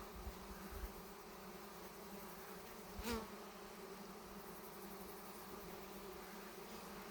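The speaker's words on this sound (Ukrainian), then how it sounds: "Бджолки так гудуть, наче збирається рій." Honey bees hum steadily around an apiary hive as a swarm begins to gather, a dense, even drone with no pauses and one brief closer buzz as a single bee passes near.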